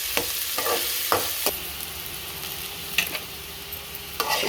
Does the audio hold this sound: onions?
yes